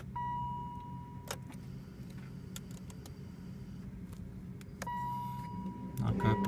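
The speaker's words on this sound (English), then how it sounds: "Switch on the car." A BMW car is switched on, with faint electrical clicks and chimes over a low steady hum inside the cabin, plus a few short sharp clicks and a brief rise in rumble near the end.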